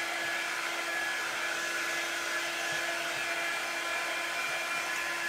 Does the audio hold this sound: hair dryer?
yes